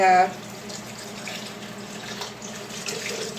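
About a cup of water runs steadily into a kitchen container for thickening homemade nut or seed milk, a continuous close splashing pour with no talk.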